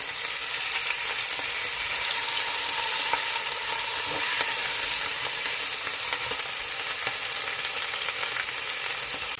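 Chicken sears in an electric pressure cooker after being flipped, giving a steady, moderately quiet hiss and crackle that runs unbroken throughout, with no voices.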